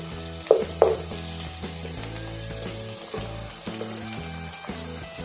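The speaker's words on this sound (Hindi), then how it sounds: "प्याज और हरी मिर्च को इकट्ठा फ्राई करें तो इसकी तेज़ी कम हो जाती है।" Onions and green chillies frying together in hot oil give a steady sizzle, with a couple of sharper pops and clinks of stirring near the start.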